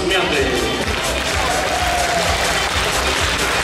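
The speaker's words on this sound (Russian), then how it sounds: "Ваши аплодисменты." Audience at a KVN comedy show in Lipetsk bursts into loud, sustained applause, dense clapping filling the hall throughout.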